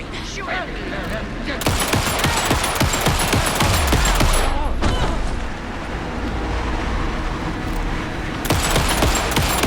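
Rapid bursts of gunfire from Alan Wake 2, loud sustained volleys with sharp repeated shots and a low rumble, under excited shouting voices.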